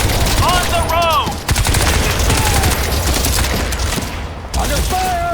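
Rapid automatic gunfire in the shooter Crysis 2, loud and close, with sustained bursts rattling almost without pause, briefly broken once, while voices shout over the din.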